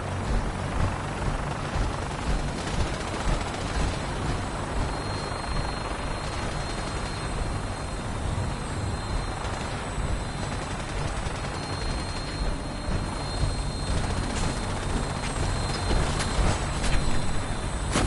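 Vertibird aircraft in Fallout 4 taking off, a steady loud rotor and engine drone filling the scene with broadband rumble and faint rhythmic thumping throughout, no talk.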